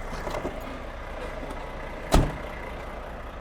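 Someone climbs out of a car in a quiet outdoor setting, with faint handling noise before a single solid door thump lands about two-thirds of the way through, then low ambient hum.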